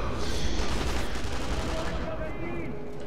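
Gunfire rattles through a Sniper Elite V2 co-op firefight, a dense continuous barrage of shots at steady loudness throughout.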